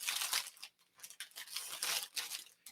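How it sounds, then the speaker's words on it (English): A knife slices and tears through the crinkly wrapping around a bunch of orange ilex flowers in short, rough bursts, close and fairly quiet. "I'll use my knife to cut this open."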